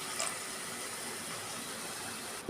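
One cup of water being poured into a cooking pan gives a steady, close gushing splash that runs for about two seconds. A short knock follows at the very end, and no one speaks.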